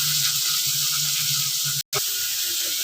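Chopped onions sautéing with green chillies in a hot pan, giving a steady, close hiss that fills the clip, with a sudden half-second break of silence near the end before the sizzle resumes.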